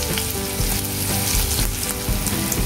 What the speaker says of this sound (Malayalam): ഇനി നന്നായിട്ട് ഒന്ന് വഴറ്റി ഉള്ളി ഒന്ന് മൂപ്പിച്ചെടുക്കാം.